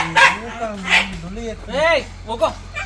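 Dog barks and yelps in a few loud, close bursts with whiny pitch swoops, confronting a young spectacled cobra, with someone talking in between.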